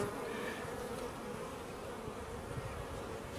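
Honeybees hum steadily around an opened hive where brood is hatching, a dense, continuous near buzz of many wings with no talk over it.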